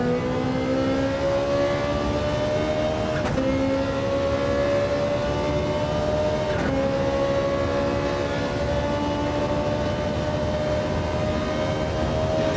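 A race car in Gran Turismo 7 accelerates at full throttle, its engine whining in rising pitch through a series of upshifts with brief dips between gears, loud and continuous throughout.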